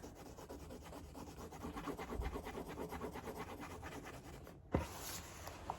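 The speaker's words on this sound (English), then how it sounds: "So next I'm going to shade in the eyelids." A pencil shading the eyelids of a realistic eye drawing on paper, giving steady close scratchy strokes in a repeating rhythm, with a sharp tap or knock near the end.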